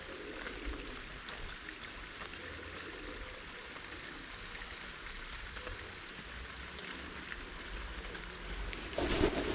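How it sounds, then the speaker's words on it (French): Rain falls steadily outdoors at a fishing spot during a predator-fishing session, giving a soft, even patter that is fairly faint and low throughout, then briefly grows louder in the last second. "Alors là, ça commence à pleuvoir, genre vraiment."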